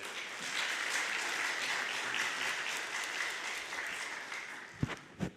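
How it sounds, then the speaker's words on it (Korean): An audience claps steadily in a hall to welcome a doctor coming up to speak, the dense applause holding at an even level throughout, with a couple of sharp thumps near the end. "우리 박 박사님 나오실 때 우리 박수로 환영하도록 하죠."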